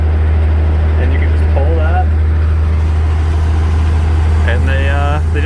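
A 1952 Dodge M37 military truck's engine idles with a loud, steady low rumble throughout, while someone talks over it and brief squeaky mechanical sounds, likely the vacuum-operated wipers, come and go.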